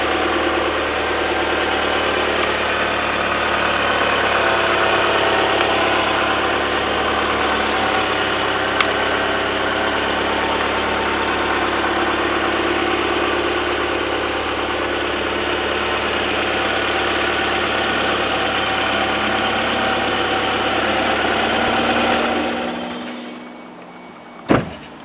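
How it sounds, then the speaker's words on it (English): A 1991 Toyota MR2 Turbo's original engine idling smoothly and steadily at close range for a long stretch, a constant mechanical hum that drops away near the end with a sharp click. "As you can see, the engine runs very nicely."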